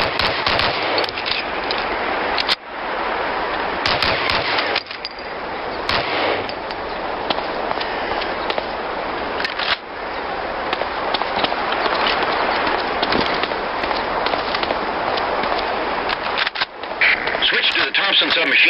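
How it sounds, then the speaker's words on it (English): Short bursts of gunfire from a .45 pistol in the game Medal of Honor: Allied Assault, a few sharp shots standing out over a dense, constant wash of battle noise and background audio. "Try a couple of shots on that target with your 45."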